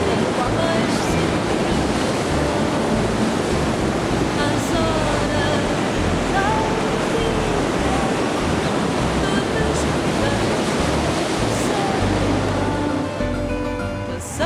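Ocean surf rolling onto the wide sands of Costa Nova do Prado beach in Portugal, a steady, loud, continuous wash of breaking waves mixed with wind rumble, holding unbroken for the whole stretch and easing only slightly at the very end.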